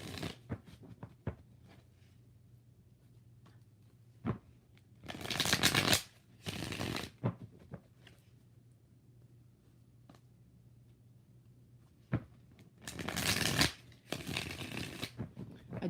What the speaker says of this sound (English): So let's get you some cards. 5 shuffles.